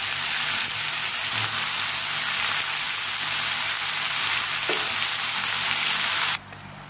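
Shredded cabbage tossed into a pan of potatoes frying in oil sets off a loud, close, continuous sizzle like heavy rain, with a faint clack near the end before it suddenly drops off.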